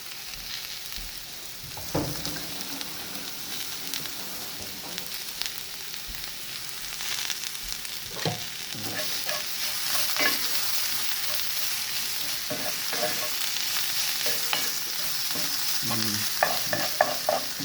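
Chicken of the woods mushroom (Laetiporus sulphureus) stirred and frying in a pan with grated ginger, a steady sizzle broken by repeated scraping knocks of the utensil, close and moderately loud with no talking.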